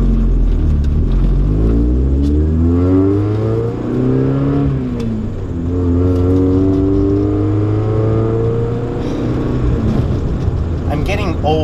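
A Toyota AE86 with a swapped K24 engine and custom exhaust drives along, its loud engine droning and rising through the revs, easing between gear changes, with a voice talking over the cabin noise.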